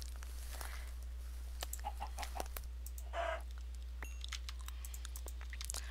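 A chicken in the Minecraft Morph Mod video game gives short faint clucks scattered among quick keyboard clicks, over a steady low electrical hum, with no voices.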